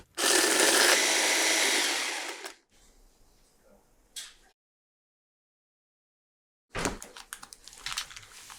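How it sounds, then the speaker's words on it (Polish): A blender roars loudly for about two seconds, grinding dry biscuits, then stops; faint clatter follows, a pause of silence, then crinkly handling and scraping noises. "włóż do misy blendera. Zmiel herbatniki i włóż do miski."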